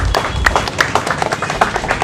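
A crowd at a Samajwadi Party gathering claps to welcome a new member, with dense, close applause of sharp irregular hand claps throughout.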